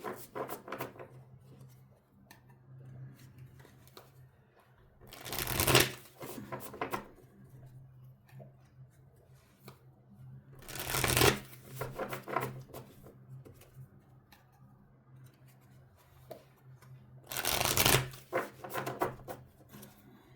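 Tarot cards being shuffled, three separate bursts of brisk riffling and flapping spaced several seconds apart, close and fairly loud, with quiet rustling and faint low hum between them and no speech.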